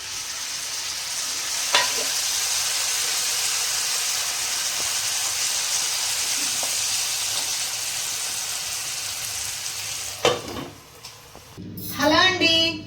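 Tomatoes fry in a pan for a coconut-milk mushroom curry, giving a steady broadband sizzle throughout, with a few sharp clinks of stirring and a louder burst of clatter near the end.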